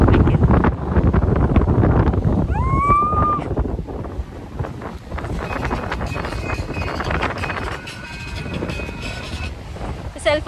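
Strong wind roars and buffets against the microphone, loud at first then gustier, with a brief high whistling tone and muffled voices underneath.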